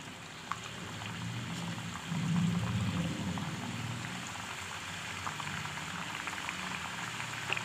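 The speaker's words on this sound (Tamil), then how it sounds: "இதெல்லாம் போட்டு பொரிச்சு எடுத்துக்கலாம்" Wheat flour biscuits deep frying in hot oil over a low flame give off a steady, dense bubbling crackle that swells briefly and continues evenly throughout, with no voices.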